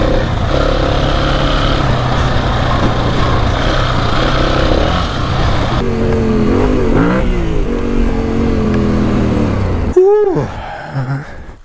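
Dual sport motorcycle engine riding off road, a loud continuous drone with steady harmonics, shifting pitch partway through and rising in a sharp rev near the end before fading.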